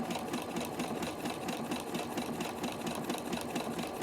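A sewing machine stitches a buttonhole on a casual shirt, running as a steady, continuous rapid mechanical whir and clatter, close and moderately loud throughout with no talking.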